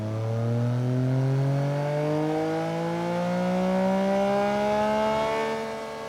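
A Yamaha MT-09 motorcycle on a dyno revs through its gears, the engine note climbing steadily in pitch, loud and continuous, then easing off near the end.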